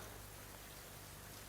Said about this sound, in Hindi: बारिश में क्यों खड़े हो?